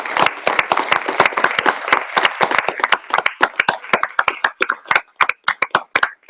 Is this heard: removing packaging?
no